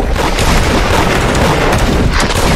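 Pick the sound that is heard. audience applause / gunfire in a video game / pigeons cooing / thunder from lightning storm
gunfire in a video game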